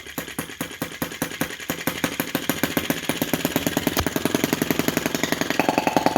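A small engine on a brass half-tracked Lanz-type model tractor chugs at a slow, steady, rapid pulse, the rhythmic thumping picking up slightly in pace and loudness as it runs, close by.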